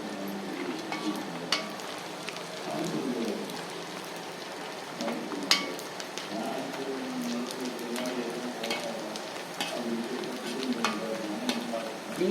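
Onion vadam fries in well-heated oil, making a continuous, moderate sizzle and crackle, like rain on a surface, with occasional sharper pops and light stirring throughout.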